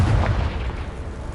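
A Confringo fire-blast spell bursts in Hogwarts Legacy, a deep booming explosion that hits loud at the start and rumbles away over about a second.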